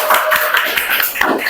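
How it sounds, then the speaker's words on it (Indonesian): A classroom of students gives a short burst of clapping for a presenting group, a few seconds of quick, fairly close hand claps with scattered individual claps. "Beri tepuk tangan dulu untuk kelompok ginjal."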